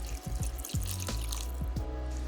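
Water, about 220 ml, is poured into a pan holding two vegetable stock cubes while a chicken fricassée stew is being made. Nearby drips and splashes run over a steady trickle.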